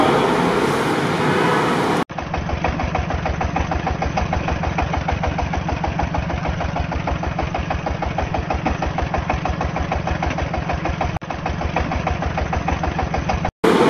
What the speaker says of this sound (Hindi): इस वक्त मेरे पास मौजूद है गार्लिक प्लांटर, जो कि चाइनीज़ इंपोर्ट की हुई है मशीन है